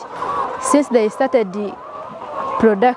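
Laying hens cluck in short bursts close by, several rising calls clustered together, with a voice talking throughout.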